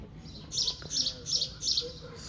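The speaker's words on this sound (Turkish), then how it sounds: "Kuşlar cıvıl cıvıl." Four short bursts of bird chirping repeat at a steady pace over a quiet outdoor background, fairly close and clear.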